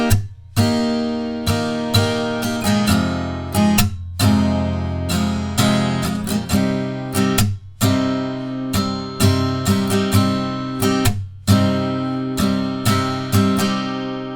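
The verse chords of a song are strummed on a guitar in a clear, close, rhythmic pattern. Strokes ring over steady changes and are heard alone, with brief pauses where the chords switch.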